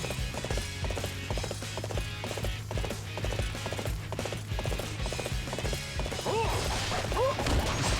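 Rhythmic hoofbeats of a galloping horse pound steadily over a busy Dynasty Warriors 8 Xtreme Legends game soundtrack, with a short whinny near the end.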